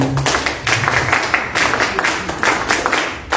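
Audience applause at a political event on agrarian proposals, a dense, loud round of many hands clapping steadily for several seconds with no voice over it.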